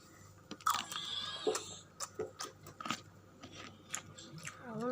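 Close, crisp chewing and biting while eating riceberry rice, with irregular crunchy bites and mouth sounds spaced through a quiet room.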